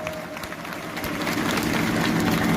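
A large crowd of unemployed teacher-recruitment protesters at a sit-in in Suratgarh breaks into applause. The dense, steady clapping swells slightly over a couple of seconds.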